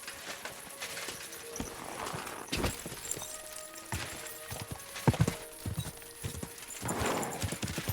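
Horse hooves clip-clop on a hard surface in an uneven walking rhythm, with a brief whinny and some game ambience around them, from Kingdom Come: Deliverance II.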